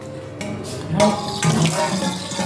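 Hot tap water running steadily from a faucet into a sink after a meal, a continuous rushing wash that swells louder about a second in and holds at close range.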